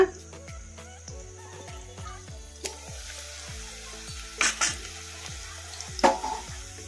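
Stuffed bitter gourds fry in a pan with a steady loud sizzle, stirred with a few sharp scrapes and clatters near the end; no one talks.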